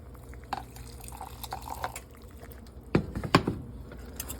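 A hot cooking mixture is poured and whisked into a slurry in a home kitchen, giving soft liquid splashes and drips with a couple of louder clinks or splashes near the end, close by, with no talk.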